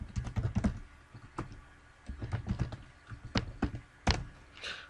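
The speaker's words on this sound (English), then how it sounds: "So let's just type it out." Close, crisp keystrokes on a computer keyboard tapping out short bursts of typing with brief pauses between groups.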